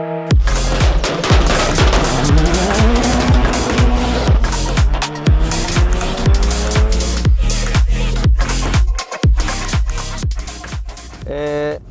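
A drag race car at the Tartu drag race, loud and close, its engine firing in rapid crackling bursts and revving in repeated short pulses with rising pitch sweeps, separated by sharp cuts.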